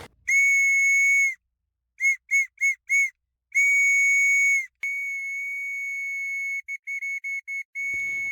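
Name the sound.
wooden whistle with red paracord lanyard blown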